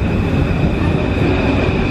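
A Paris metro train rumbles loudly and steadily through a station, a dense low roar with a faint high whine running throughout and no voices over it.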